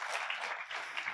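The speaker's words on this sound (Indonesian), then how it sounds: "Beri tepuk tangan bagi Tuhan kita" A church congregation claps together during a sermon, a soft, even wash of applause heard at some distance and fairly quiet throughout.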